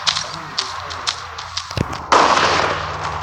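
Gunfire in the mobile shooter game Guns of Boom: a few sharp, scattered pops, then a louder, denser burst of shots. The shots are close and heard alone, without speech.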